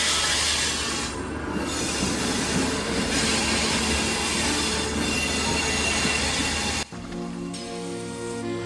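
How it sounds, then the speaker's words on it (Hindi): A passenger train pulls into New Delhi railway station, wheels squealing loudly against the rails in a long, sustained screech with rolling wagon rumble beneath, ending in a sharp cut to quieter, tonal brake hiss and whine. "तो ये देखिए अपनी ट्रेन आने लग गई है"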